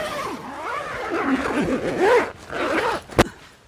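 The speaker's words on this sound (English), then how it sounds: "when you unzip here, up and around" A zipper on a camper trailer's canvas is pulled in several sweeping, rasping runs, close by, followed by a sharp click near the end.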